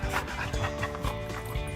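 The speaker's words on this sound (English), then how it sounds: "This is why we bring the quiet dog normally." Dog barking and whimpering close by over a loud, continuous background, in short yips and bow-wows beside a truck being turned into a boat with an LS engine swap.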